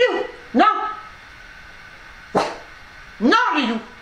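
A guard dog gives several loud, close, tonal barks, single and then a quick double, spread over about four seconds in a quiet room.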